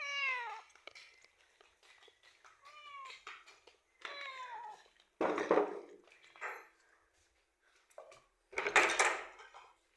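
A cat meows repeatedly, several rising-and-falling calls close by, broken by a few clunks and bumps like a drawer or door being handled.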